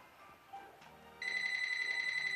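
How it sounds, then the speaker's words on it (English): Telephone ringing in a room, a sharp electronic trill that starts partway in and keeps ringing steadily and fairly loud after a few faint game noises, with no talk. "Ignore the phone."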